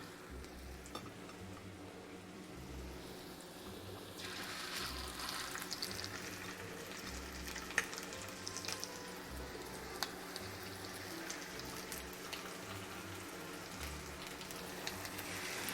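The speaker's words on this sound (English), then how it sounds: "So my oil is nice and hot, so I'm gonna put them in one at a time like this." Chicken taquitos going one at a time into hot oil, with a steady, fairly quiet bubbling sizzle and crackle running throughout and no talking.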